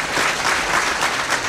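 Theatre audience at a New Year's cabaret show clapping, a dense, steady roar of applause throughout with no break.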